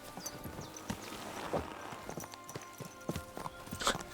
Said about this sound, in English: but we need our horse